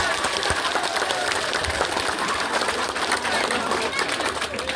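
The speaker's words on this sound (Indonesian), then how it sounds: "Tepuk tangan untuk kita semua." Crowd applause at a regency deputy candidate's political campaign rally in Manggarai Barat, dense clapping from a large outdoor audience with scattered chatter and shouts mixed in, continuous throughout.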